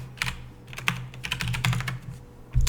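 Fast typing on a computer keyboard while writing C++ code: a close, crisp run of clicking keystrokes in irregular bursts, ending on a heavier thump, alone with no talking.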